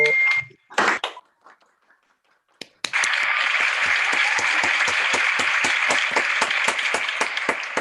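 An audience at a medical school graduation ceremony breaks into sustained applause for the graduates, a dense wash of many hands clapping loudly after a short quiet pause with a few scattered claps.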